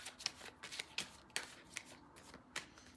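Playing cards are shuffled by hand, a run of quick papery riffles and soft slaps in an irregular rhythm, close and fairly quiet with no talking.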